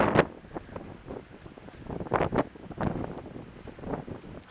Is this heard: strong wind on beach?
yes